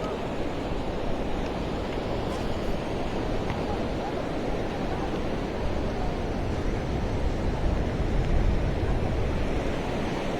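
At night on Versova Beach, a sea breeze and waves form a continuous broadband wash of surf and wind buffeting the microphone, steady and fairly loud throughout, with no clear separate voices.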